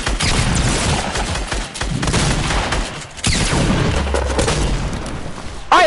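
Rapid bursts of gunfire from a Fortnite match, dense and loud with repeated booming shots through most of the stretch, a brief lull near the middle, then renewed firing.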